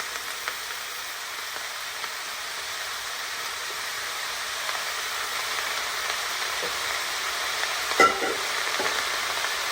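Apples and ketchup ingredients sauté together in a pan, giving a continuous soft sizzle with faint stirring and a single brief clink near the end, with no voice over it.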